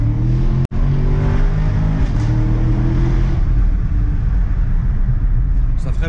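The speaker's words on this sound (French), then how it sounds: "Le bruit est vraiment dingue. Pour une ligne d'échappement d'origine." Ferrari FF with its stock exhaust, the engine droning and revving in a deep steady rumble from inside or beside the car, loud and continuous, with a brief dropout near the start and people talking over it.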